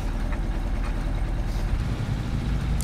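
A Detroit Diesel 8v92 engine in a Peterbilt 352 truck game mod idles with a deep, steady, throbbing rumble, loud and constant throughout with no talk.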